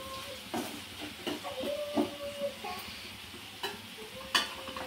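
Ginger garlic paste and turmeric sizzling in a pan, a steady soft hiss of frying with occasional scraping taps of a spoon stirring, close and fairly quiet, with no talking.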